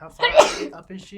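A single loud, close sneeze bursts out during a tabletop role-playing game session, followed by someone briefly talking.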